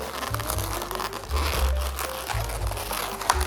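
Close rubbery squeaks and crinkling as a partly inflated modelling balloon is twisted and knotted by hand for a Mickey Mouse balloon figure, a few short rubbing bursts in quick succession.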